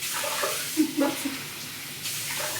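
Water is poured out at home in a soft, splashing stream that swells and eases over a couple of seconds, with a voice briefly heard nearby.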